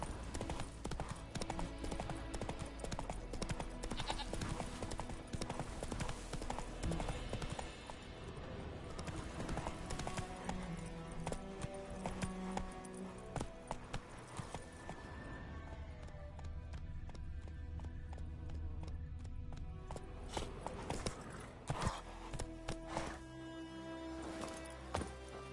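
Horse hooves clip-clopping at a steady running pace while riding in the video game Witcher 3, loud and continuous for about 25 seconds, with a brief whinny and no speech.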